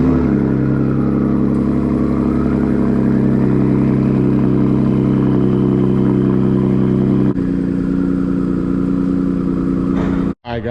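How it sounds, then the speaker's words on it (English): A lifted Ford F150 truck engine runs loudly at close range after a cold start, a deep steady rumble that drops in pitch partway through as the idle settles, then cuts off abruptly near the end. "Go ahead and give a cold start. I have not started the truck in 3 days, like I said, so it should be a pretty loud one"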